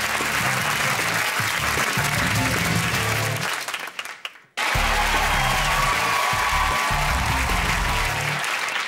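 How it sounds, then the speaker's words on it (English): Loud studio audience applause on a TV comedy quiz show fills the room, then cuts off abruptly midway and resumes at full strength after a brief gap. "Once again, Natalie, give a round of applause."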